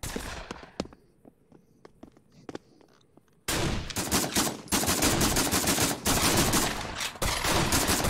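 Gunfire in the Pavlov VR zombies mode: scattered single shots, then a dense sustained burst of rapid automatic fire with brief gaps, loud and close.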